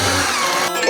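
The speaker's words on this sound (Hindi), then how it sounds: "मैं ड्रिल के साथ काम करूंगी।" A power drill running steadily and loud throughout a short burst, a continuous whirring motor tone with no voices.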